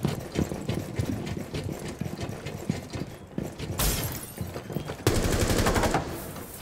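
Shotgun blasts in a busy video game firefight, with rapid bursts of gunfire and mechanical clatter. The loud, dense noise runs throughout, with harsher bursts toward the end.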